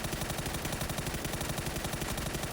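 Rapid automatic gunfire in the console version of PUBG, a loud, steady rattling burst of evenly spaced shots that fills the whole stretch with no talking.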